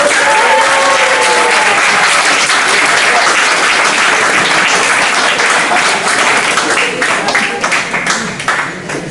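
An audience at a presentation breaks into loud, sustained applause to welcome a doctor to the stage, with dense clapping filling the room and slowly thinning near the end.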